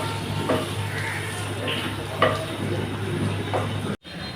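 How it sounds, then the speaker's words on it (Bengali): Potatoes fry with a little turmeric in oil left over from frying koi fish, giving a moderate steady sizzle with a few soft stirring knocks and a brief cut near the end. "এখন ওই তেলেই আলুগুলোকেও সামান্য হলুদ দিয়ে ভেজে নেব"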